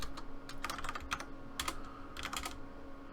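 Commands being typed on a computer keyboard, with close, crisp key clicks in short irregular bursts separated by brief pauses, over a faint steady hum and with no speech.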